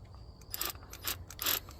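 A ratchet tightens bolts on the oil pan of a 2015 Dodge Durango 5.7L engine, giving three short bursts of quick clicking, close and fairly quiet, with no talk.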